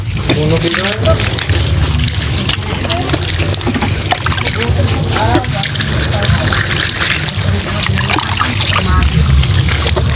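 Water poured over a man's body during a wash with soap and powder: continuous splashing and trickling runs throughout, with people talking over it.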